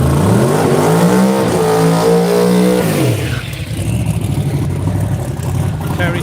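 A Camaro drag racing car on a radial drag strip in Australia roars at full throttle, its engine pitch climbing through gears loud and close, then fading into crowd and track noise as a commentator talks.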